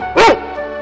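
A single short, loud dog bark from a children's alphabet word book, one sharp yip that fades quickly into a faint tail.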